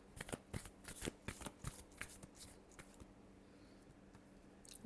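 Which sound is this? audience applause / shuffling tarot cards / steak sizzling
shuffling tarot cards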